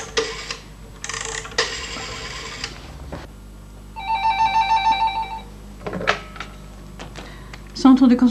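A telephone rings on an outgoing call to a doctor's consultation centre, with a steady repeating electronic ring tone around the middle of the clip, between stretches of quiet room sound and brief voices.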